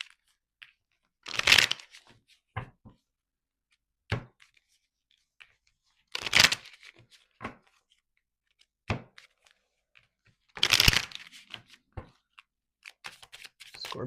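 Numerology cards being handled for a reading, with three loud bursts of shuffling riffles spaced several seconds apart and scattered soft taps and thunks of cards set down between them in an otherwise quiet room.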